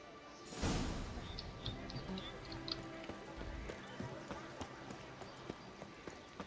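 A horse's hooves clip-clop at a tournament in The Witcher 3 DLC. The clopping is quiet and steady beneath a speaking voice.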